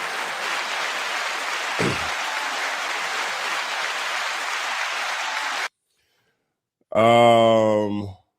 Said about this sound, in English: 9-second applause to us all.